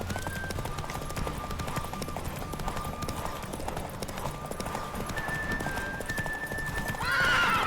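In The Witcher 3: Wild Hunt, a horse's hooves clip-clop in a steady galloping rhythm under a constant ambient bed, then a loud, close whinny rises near the end.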